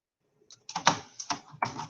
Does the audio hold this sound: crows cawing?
no